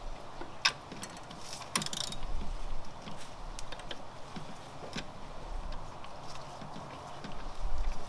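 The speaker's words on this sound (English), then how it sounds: "let's go ahead and remove that bolt now" A ratchet wrench loosens a 10 millimeter bolt on a car engine during a valve cover and intake manifold gasket job, giving faint, close, irregular clicks and metallic ticks with brief pauses.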